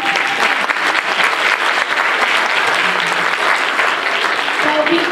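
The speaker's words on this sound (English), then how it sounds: "we would love to give you a round of applause" A choir concert audience applauds loudly and steadily for the performers, a dense wash of many hands clapping with a few voices mixed in toward the end.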